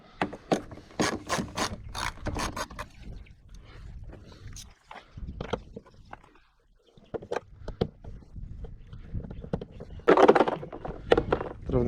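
Ratchet loosening rear bumper bolts on a Porsche Panamera 4S: bursts of quick clicking pawl strokes, close and sharp, with pauses and a faint voice speaking in between.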